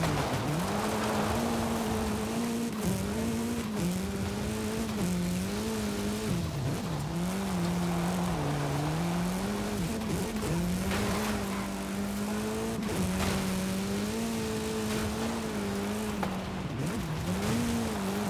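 Car engine in Forza Horizon 5 during an eliminator race, droning loud and steady with pitch rising and falling through shifts and acceleration, with occasional tire squeal and no talking.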